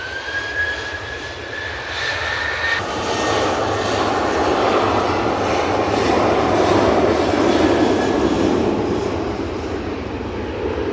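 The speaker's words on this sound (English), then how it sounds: "There is an Easyjet coming in." An EasyJet jet airliner on approach to land at Manchester Airport, its engines a loud, steady roar that swells gradually over several seconds with no talking.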